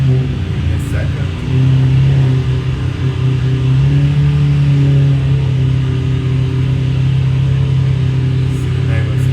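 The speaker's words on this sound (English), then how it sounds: "See the neighbor's cars are a little loud." Neighbors' cars pass by outside with a loud, continuous engine rumble and hum that holds steady throughout.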